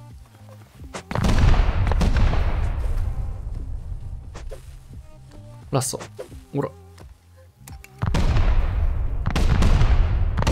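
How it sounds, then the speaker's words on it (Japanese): Satchel charges blast against an enemy base in the survival game Rust, set in a desert area: two loud, booming explosions with rumbling decay, separated by sharper cracks, while someone talks over them. "いい感じに爆発してくれてる。"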